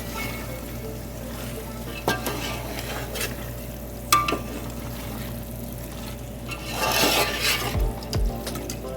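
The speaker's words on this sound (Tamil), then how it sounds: "இந்த ஸ்டேஜில் நம்ம சிக்கன் ஆட் பண்ணிக்கலாம்." Chicken fries in hot oil for Ambur biryani, sizzling steadily while a spoon stirs and scrapes the pan, with the frying growing louder near the end.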